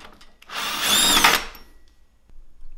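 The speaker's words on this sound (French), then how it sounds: "Donc je vais dévisser la plaque là pour pouvoir les récupérer." A power drill unscrews a plate on a Parkside PTK 2000 table saw in one short, close whirring burst lasting about a second, followed by faint handling noise.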